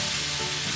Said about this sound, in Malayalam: നന്നായി ഇളക്കി കൊടുക്കണം, അല്ലെങ്കിൽ അടി കരിഞ്ഞു പോകും.